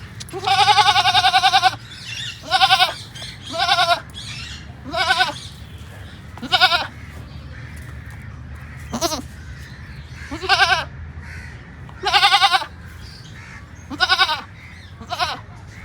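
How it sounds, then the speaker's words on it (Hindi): A markhor goat bleats over and over, loud and close, in a series of long, wavering calls separated by short pauses, with a low steady hum underneath. "ये वाली बकरी इतना शोर नहीं करती है, लेकिन अभी आप देखो तो ये कंटिन्यू शोर करे जा रही है"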